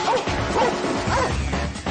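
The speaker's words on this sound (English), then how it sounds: "she runs around the pen barking" A dog barks repeatedly in quick succession, sharp and fairly close, with yips mixed in over a noisy background.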